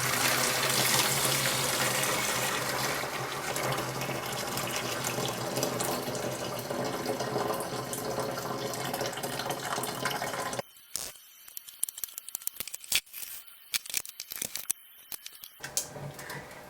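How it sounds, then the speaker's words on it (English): Steeped wort pours for a Coopers hazy IPA home brew, a steady loud rushing gush of liquid that cuts off abruptly into scattered drips and splashes. "Time to add the steeped wort."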